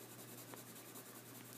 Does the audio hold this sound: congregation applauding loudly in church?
no